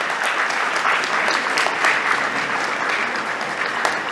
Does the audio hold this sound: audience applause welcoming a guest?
yes